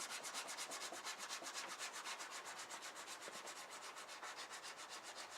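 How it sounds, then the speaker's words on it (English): Aggressive coarse-grit sandpaper rubbed back and forth in quick, even strokes, a soft rhythmic scratching of about five or six passes per second, close and quiet with no talk. "Gonna use an aggressive grit sandpaper on this."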